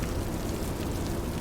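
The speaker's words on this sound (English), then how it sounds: "I let the rain come in so y'all can hear the rain" Rain in American Truck Simulator, a dense, even hiss of falling drops with no other sound over it.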